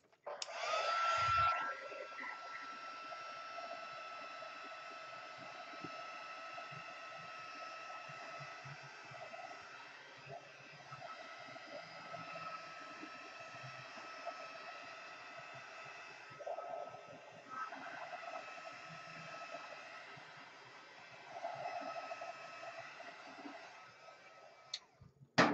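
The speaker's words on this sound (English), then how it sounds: "Now, I'm going to hit it with a heat gun." A heat gun blows a steady, breathy rush of hot air onto a shabby chic wedding dress craft piece. The sound is moderately loud and continuous for about twenty-five seconds, with a few slight surges as the gun is moved.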